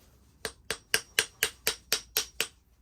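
A hammer strikes a freshly cast 8-ounce lead fishing weight nine times in a steady rhythm, each blow a crisp close metallic tap with a short decay.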